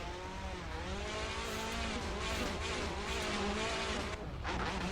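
Game car engine drones and whines steadily as the handbrake drags it into a long tire-squealing skid on a PXN V12 Lite wheel setup, loud and continuous throughout.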